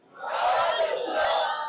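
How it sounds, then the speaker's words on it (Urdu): A large crowd at a religious gathering roars out a loud, unified chant of two surging bursts, voices blending into one full wall of sound. "لیکن میں چاہتا ہوں کہ سب لوگ بلند آواز سے دل کی گہرائی سے یا رسول اللہ کہے"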